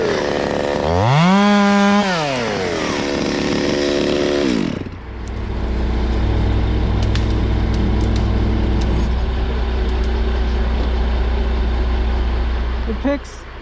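A small chainsaw revs up and down in the open, then bites into a tree to trim off a leftover homeowner cut, a loud steady cutting drone with a voice talking over it.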